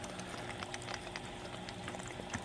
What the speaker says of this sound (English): the water still comes out good, but the noise is like cut almost completely off